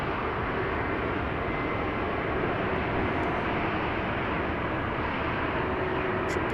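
Steady broadband roar of a fixed-wing airliner at Amsterdam Schiphol Airport, landing on runway 18C in a light south-southwesterly wind, a continuous rumble that holds evenly throughout without voices.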